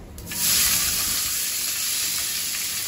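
Onions dropped into hot oil for a Tamil-style vadacurry, a loud, steady, close sizzle that swells after a brief start and keeps crackling evenly throughout.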